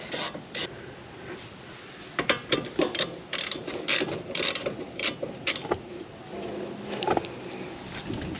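A ratchet with a 14mm socket works loose the brake caliper bolts on a 2013 Honda Civic, giving irregular close clicking bursts in quick runs between short pauses, with no talk.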